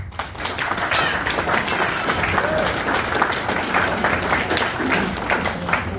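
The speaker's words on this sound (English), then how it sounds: "a round of applause anyway for your Supreme Champion, 491 Paul Press" A crowd at a BriSCA V8 stock car awards night applauds steadily, dense clapping sustained at even loudness throughout with faint voices mixed in.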